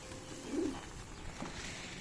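A pigeon coos softly once at a Giribaz pigeon farm, a brief low call over a quiet, hushed background.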